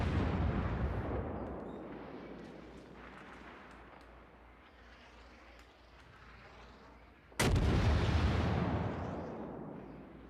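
Naval guns fire in the World of Warships game, one heavy sudden blast cutting in after a stretch of low rumbling battle ambience, then a long rolling decay.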